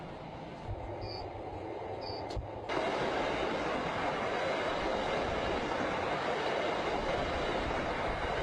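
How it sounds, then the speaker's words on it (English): Train carrying Hajj pilgrims from Mina to Arafat rumbles steadily, with a couple of faint high tones early on before the noise swells into a louder, continuous rolling roar as it moves. "This train trip takes only 15 minutes."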